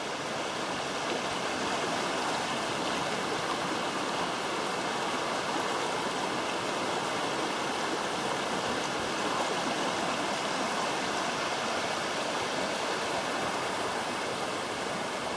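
A creek in the Wentworth Falls area of the Blue Mountains, near stepping stones, flows with a steady, dense rush of water that stays close, loud and unbroken throughout, with no voices.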